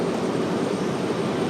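An Airbus A321 airliner taxiing at Raleigh-Durham airport, heard as a steady, broad engine roar and rumble that holds evenly throughout without talk.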